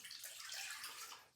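Water is poured into a crock pot, a soft, continuous splashing rush lasting just over a second, quiet and close, with no voices.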